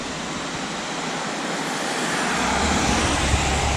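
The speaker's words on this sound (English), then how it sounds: "look at this waterfall" A steady, dense roar of rushing water from a waterfall beside a mountain road near Valdez, Alaska, loud and continuous throughout and swelling slightly toward the end.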